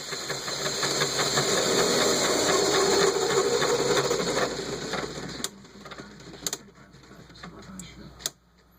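A Lego motor drives a 10-speed transmission in 9th gear, giving a loud, steady mechanical whir and gear rattle that drops away abruptly, leaving a few faint clicks and knocks.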